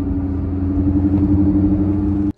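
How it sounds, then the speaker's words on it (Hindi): A Tata Nexon with a faulty front wheel bearing makes a steady, low grinding growl while the car moves. The rumble is loud and close, holds without a break, then cuts off abruptly. "ये आवाज़ जो है जनरली बैड बियरिंग से ही आती है"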